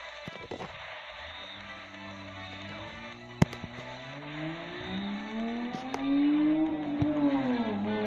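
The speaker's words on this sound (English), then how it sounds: "I hope you guys do not hear that motorcycle" A vehicle engine, probably a motorcycle, rises in pitch as it passes outside, its rumble growing louder toward the end, heard faintly alongside a mobile game's soft sounds with no speech.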